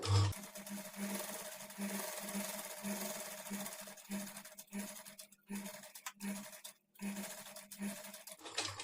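A sewing machine stitches the edge of a blouse lining in short, buzzing bursts with brief pauses between runs, fairly faint and steady in rhythm.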